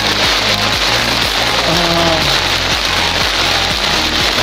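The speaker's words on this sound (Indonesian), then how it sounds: "hujan es ini di puncak di Lembah Kuning" Hail pelting down at Lembah Kuning on the Carstensz Pyramid climb, a dense, loud, continuous patter of ice striking the ground and gear close by, steady throughout without talk.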